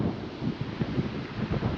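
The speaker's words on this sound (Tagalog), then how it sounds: "napakalakas ng hangin saka ng alon" Strong wind buffets the microphone at sea, with a low rumbling roar and the wash of choppy waves underneath, steady and close throughout, with no talking.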